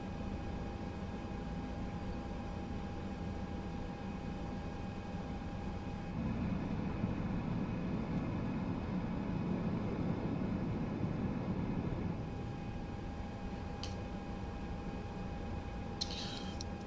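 A steady, droning airliner engine idles on the ground before departure in Microsoft Flight Simulator 2020, a constant broadband hum with a shift in tone partway through and faint clicks near the end.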